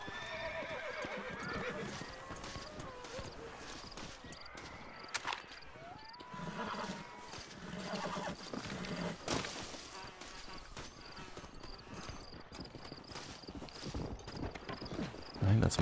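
Horse in the Red Dead Redemption video game neighs loudly near the start, with clip-clop hoofbeats running throughout the clip and a voice talking over it.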